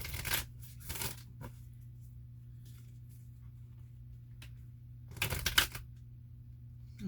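Quick riffling bursts of a card deck being shuffled, one near the start and another later, with quiet pauses and a low hum between.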